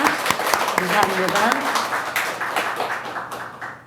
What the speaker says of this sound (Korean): 우리 모두가 다 한영에 박수로 환영하겠습니다.